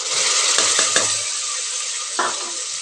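Tomato pieces fry in a pan with a steady bright sizzle, broken by a few scraping stirs early on and another near the end.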